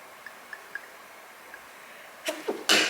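A sneeze bursts out in a kitchen while chicken is being seasoned with olive oil, coming near the end after a few faint drips and soft wet sounds, with a couple of short breathy bursts just before it.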